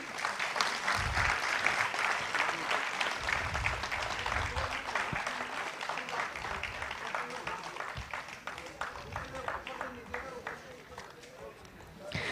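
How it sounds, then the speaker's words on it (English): An audience at the inauguration of a science event claps in a dense, steady round of applause that fades slightly toward the end, with voices audible underneath. "Can we have a huge round of applause?"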